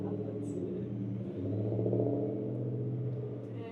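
A car with a turbo, the owner's wife's daily driver, runs with a steady low engine rumble and a rising whine like a vacuum cleaner that swells midway through, close and continuous.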